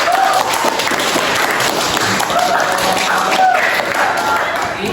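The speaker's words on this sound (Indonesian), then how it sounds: "Tepuk tangan." Applause from a classroom of students, steady mixed clapping filling the whole stretch at a moderate level with faint voices underneath.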